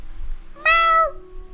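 A voice imitates an angry cat with a single short, strained meow that rises and then trails off, close and fairly loud.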